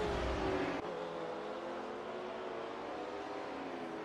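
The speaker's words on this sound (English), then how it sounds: "Is that Aberdeen spinning away into the gravel trap?" A race car in a Formula Student sim racing game spins off into a gravel trap, heard as a faint, steady engine drone with tonal whine that dips slightly after a brief bump.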